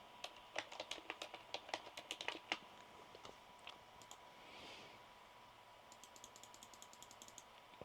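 Typing on a computer keyboard, a quick run of faint close key clicks, a pause with soft background noise, then a lighter flurry of taps.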